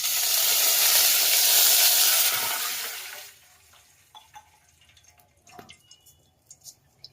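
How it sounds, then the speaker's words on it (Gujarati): Water is poured into a hot pan of oil with mustard seeds and cumin while making green chutney. It sets off a loud, rushing sizzle for about three seconds, then fades into scattered soft crackles and drips. "થોડું પાણી નાખીએ।"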